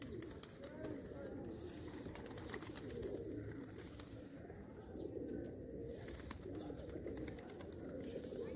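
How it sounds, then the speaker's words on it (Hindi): Pigeons coo in a steady, dense murmur at a Sufi shrine in Multan, with flapping as the flock takes off, while people talk in the background throughout. "और ये कबूतर उड़ रहे हैं।"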